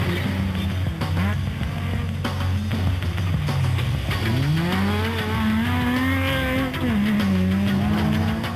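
A Toyota Hilux rally race truck drives hard, its engine rising and falling through gears in loud, continuous revving with sweeping pitch changes and some tire noise, close and steady throughout.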